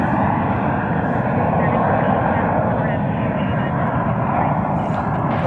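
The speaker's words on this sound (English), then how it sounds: "the American Dreamliner coming in from London Heathrow, 7879 Dreamliner" An American Airlines Boeing 787-9 Dreamliner arriving at DFW Airport from London Heathrow produces a loud, steady jet-engine roar that holds constant throughout.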